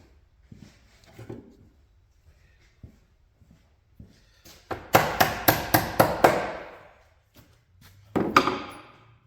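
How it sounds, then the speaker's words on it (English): Hammer blows ring out on a custom flatbed being built for a 2006 Ford F-250, a quick burst of about six sharp metallic strikes followed by one more later, close and fairly loud, with light handling noises between. "there's a hammer right there"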